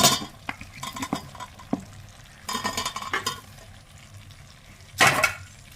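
Soybeans and green peas are stirred into masala in a pan, a spoon scraping and clattering against the metal in several bursts, with a louder clanking stir near the end and soft sizzling between.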